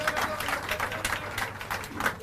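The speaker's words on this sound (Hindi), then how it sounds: "आदरणीय मुख्यमंत्री केजरीवाल जी के लिए बननी चाहिए जोरदार तालियां" A crowd at an outdoor political rally on the Ganges bank in Uttarakhand claps for Chief Minister Kejriwal, uneven bursts of clapping with a low rumble and some voices mixed in.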